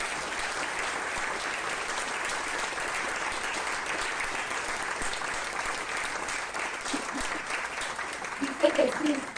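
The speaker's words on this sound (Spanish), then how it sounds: "Dale un aplauso fuerte a Él." A church congregation claps in sustained, even applause at moderate distance, and a voice rises briefly near the end.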